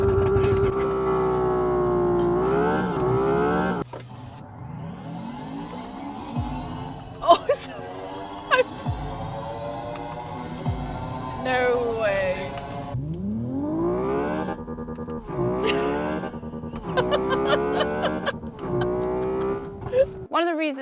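Hyundai Ioniq 6 N electric car's synthetic N Active Sound while drifting on a test circuit, rising and falling engine-like tones sweeping up and down through gear-shift steps, with tire noise and a brief spoken exclamation.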